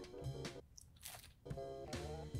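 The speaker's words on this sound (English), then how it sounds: "I like the crunch from the Cheeto part." Close, quiet crunching and chewing of mac and cheese mixed with crunchy Cheetos, in bursts of bites separated by a brief pause.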